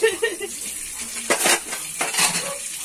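Dishes and cutlery being washed by hand, with a few sharp clinks and clatters of plates and utensils near and fairly loud, spaced out over a faint background hiss.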